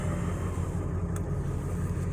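A Ford 7.3 diesel truck engine drones steadily while driving, with a low rumble and road hum heard from inside the cab and no speech.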